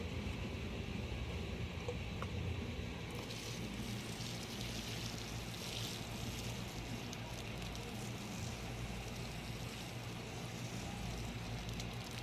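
Water from a watering can splashes down steadily onto freshly planted pumpkin and radish seeds in a garden bed, a continuous soft pour heard close by with a faint outdoor hiss.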